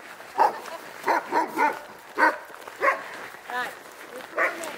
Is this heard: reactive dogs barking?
yes